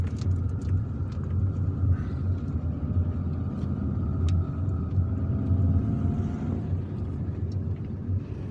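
Car driving through the suburbs of Algiers between Baba Ali and Birkhadem, heard from inside as a steady low road rumble and engine hum, with passing traffic and faint higher noises over the constant drone.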